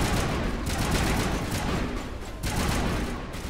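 Dense, continuous gunfire during a firefight in Mass Effect Legendary Edition, loud overlapping shots running the whole time with little pause.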